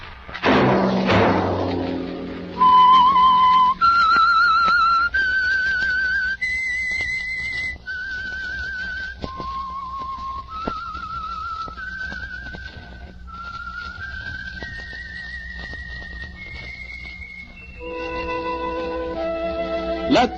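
Signature whistled melody from the old-time radio drama The Whistler, a lone clear whistle carrying a slow, eerie tune note by note after a brief opening thud, prominent and close with no talking.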